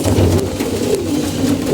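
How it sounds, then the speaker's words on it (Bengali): Pigeons, including young birds, coo close by in low, throaty, repeated calls that run continuously through the short stretch. "এই সাইডে বাচ্চা কবুতরগুলো আছে"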